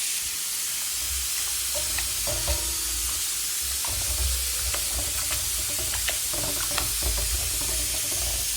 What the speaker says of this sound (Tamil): இதை வந்து நல்லா தண்ணியில் அலசி எடுத்துக்கிடுவோம்